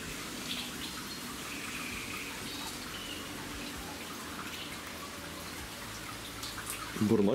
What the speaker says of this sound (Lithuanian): biški ir lietus rimsta